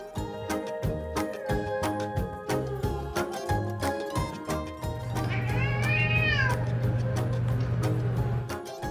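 A cat meows several times, with one long, rising and falling drawn-out cry near the end, heard clearly over a steady rhythmic musical backing.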